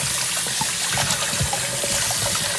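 Tap water runs and splashes continuously with small clatters as beef bones are rinsed under it, close by.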